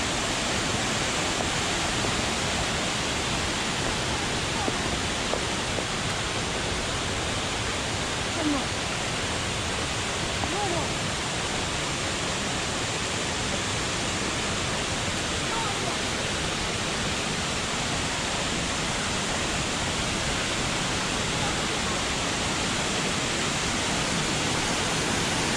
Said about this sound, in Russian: Лима-Лима водопад.